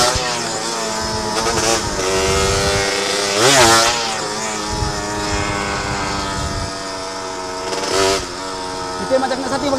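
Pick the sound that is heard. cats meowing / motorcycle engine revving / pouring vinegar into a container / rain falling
motorcycle engine revving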